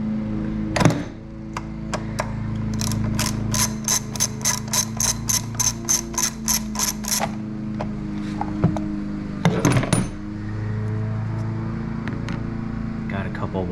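A ratchet wrench fitted with a 13mm socket works on a John Deere JX75 lawnmower, giving a fast, even run of close clicks in the middle, with scattered clanks of metal before and after.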